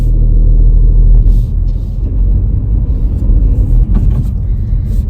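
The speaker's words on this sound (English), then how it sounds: "Okay, now I'm going to go clutch down, first gear, make sure it's safe, and I go" A manual car pulling away in first gear, its engine giving a loud, steady low rumble close by with slight swells as it moves off.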